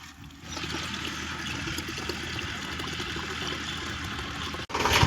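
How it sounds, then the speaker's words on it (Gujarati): Water pours steadily into a can, a continuous close splashing rush that holds even throughout before cutting off near the end. "આ પાણીને કેન ભરું"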